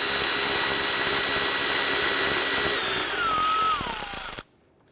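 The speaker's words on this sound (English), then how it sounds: "remove our 10 millimeter bolt in the back here." A powered socket tool spins out a 10 mm bolt on a 2001-2005 Honda Civic engine, a loud, close, steady whir that drops in pitch and cuts off abruptly, leaving near silence.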